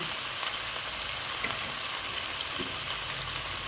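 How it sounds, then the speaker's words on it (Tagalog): Mixed vegetables (eggplant, long beans, okra and squash) sizzle in a hot pan with a steady, moderate hiss and light crackling, and no one speaks. "Pwede na natin i-add ang ating mixed gulay"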